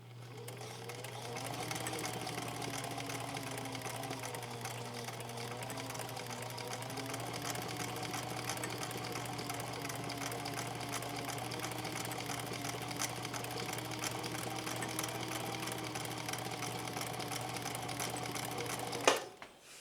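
A sewing machine runs in its slow gear under foot-controller power, a steady close mechanical whir that rises briefly at the start and then hums evenly for nearly twenty seconds before stopping abruptly.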